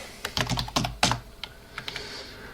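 Keys clatter on a computer keyboard during command-line typing, close and clear, in uneven bursts of rapid clicks with short pauses between.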